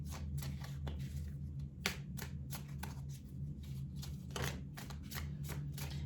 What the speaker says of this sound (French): On va mettre une ligne de 7 cartes avec l'oracle Itae.